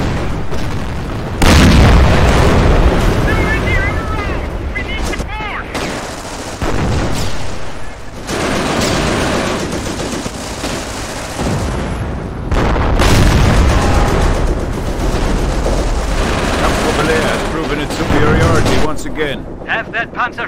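Gunfire and explosions from a World War II battle in the Company of Heroes strategy game: dense booms and bursts of shooting run almost continuously, with brief lulls between heavy volleys, and voiced unit callouts mixed in among the combat.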